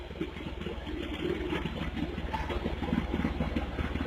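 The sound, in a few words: mini tractor engine running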